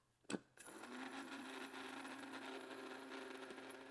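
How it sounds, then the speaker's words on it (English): Electric spice grinder whirring steadily as it blends roasted spices, starting with a sharp click and then a close, even motor whine. "Put it in a spice grinder. Blend it nicely."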